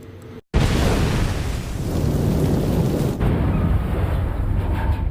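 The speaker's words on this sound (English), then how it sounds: "It was an enormous explosion." A torpedo explodes against a ship during a Second World War U-boat attack in the Battle of the Atlantic, a sudden loud, deep blast after a brief silence, rolling on as a sustained heavy rumble with no talk.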